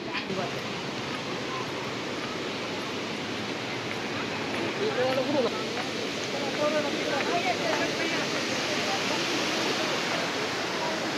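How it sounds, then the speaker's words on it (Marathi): Palse waterfall in Mulshi, a steady broadband rush of falling water heard from nearby, with faint voices murmuring underneath. "पळसे धबधबा."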